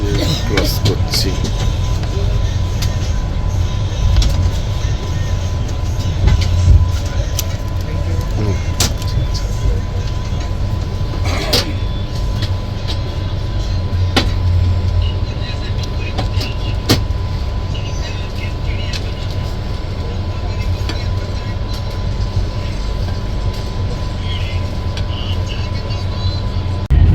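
Steady low rumble and rattle ride aboard the Patna–Howrah Vande Bharat Express as it crosses through platform 5, with occasional clicks and knocks over a constant roar.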